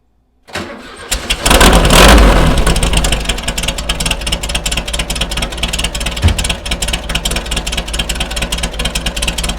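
A 1973 VW Beetle with a 1641 engine on Weber carburetors cranks and catches about half a second in, then settles into a loud, steady, close-up idle with a slightly uneven, cold-blooded throb.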